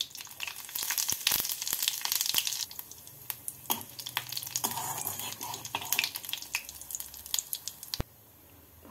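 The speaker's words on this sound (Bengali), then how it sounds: "এর মধ্যে ফোড়নে দেব 2টো শুকনো লঙ্কা" Dried red chillies and white cumin seeds crackle and sizzle in hot oil for a tempering, with sharp pops and bursts over a steady frying hiss, close and fairly quiet, ending abruptly.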